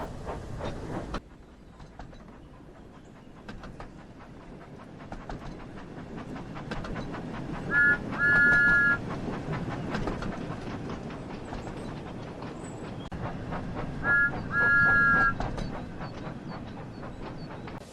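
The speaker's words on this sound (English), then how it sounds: "And like that, Thomas puffed away." A steam engine puffs along a railway with a steady chugging rhythm and rolling wheel clatter, fairly close, with two short bright whistle blasts partway through, no talking.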